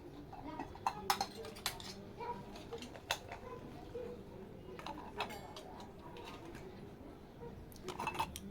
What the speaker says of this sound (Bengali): এই কটা বাসন মাত্র ধুয়ে নেবো।